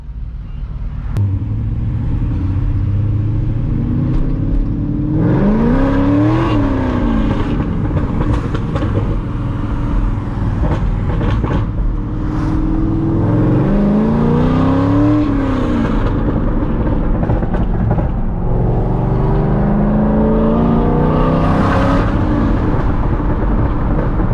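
A Chevrolet C6 Corvette on a cruise, its engine rumbling loudly throughout and climbing in pitch through repeated bursts of acceleration and revving, with no talk over it.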